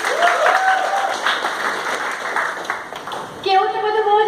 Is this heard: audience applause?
yes